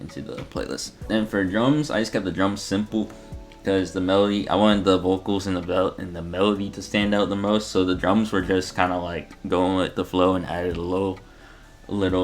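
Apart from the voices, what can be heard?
None of the usual background noises is heard.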